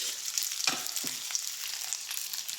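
Dried anchovies (dilis) frying in hot cooking oil in a heated pan, giving a steady close crackling sizzle with a couple of brief louder pops and stirring scrapes.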